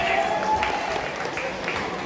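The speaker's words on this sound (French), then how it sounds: "On peut s'applaudir très, très, très," Audience at a hypnosis show applauding, a steady wash of clapping heard from a moderate distance throughout, fairly even in loudness with no talk over it.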